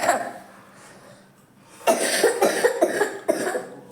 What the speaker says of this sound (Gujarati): ઉધરસ થઈ જાય ઉધરસ થઈ